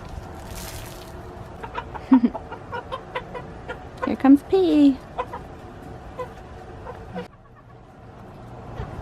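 Hens cluck close by in short bursts inside a winter chicken coop, with a brief spoken remark and low background noise.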